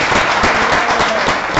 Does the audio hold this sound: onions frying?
no